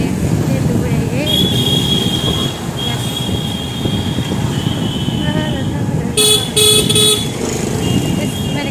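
Busy road traffic surrounds a scooter ride in Purnia, with a steady engine and road rumble, a few passing horn toots, and people talking over the noise.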